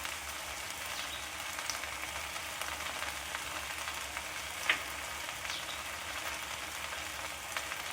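Okra frying in oil in a pan for a Tamil-style coconut poriyal, a soft, steady sizzle with faint crackles and one brief clink of stirring, no voices.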